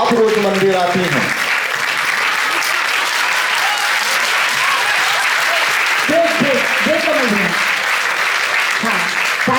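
An audience claps steadily at a Jain community 'Aapki Adalat' event held in the Upper Bazar Jain temple in Ranchi, with a voice speaking over the continuous applause at the start and again near the end.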